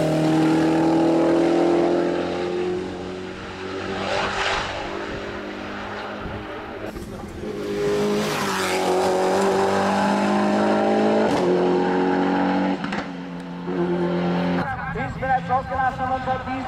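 A Mitsubishi Mirage R5 four-wheel-drive rally car with Lancer Evolution mechanics and 570 hp accelerates hard from the start. Its engine revs loudly through rising gear pulls with brief breaks, heard up close over crowd and background noise.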